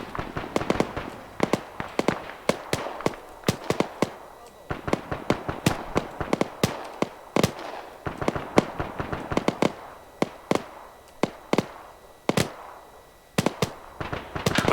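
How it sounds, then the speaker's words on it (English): Gunfire rattles through an ArmA 3 battle, with sharp cracks and quick bursts coming in irregular clusters across the whole stretch, some close and loud, others more distant. "They're shooting at your old position."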